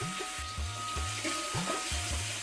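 Chopped onion and garlic fry in mustard oil in a wok, a soft steady sizzle broken by a rhythmic series of short scraping strokes, close and fairly quiet.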